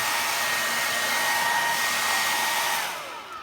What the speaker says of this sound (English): to dry the alcohol with the hair dryer